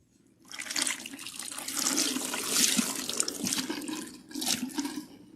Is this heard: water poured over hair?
yes